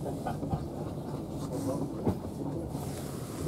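Avanti West Coast Class 390 train pulling into London Euston, heard from on board as a steady low rumble with faint rail clicks and occasional knocks, a bit of background voice mixed in.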